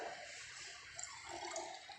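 Water is poured from a conical flask into a beaker, a soft continuous trickling and splashing that stays faint and steady, with small brief spikes of liquid noise.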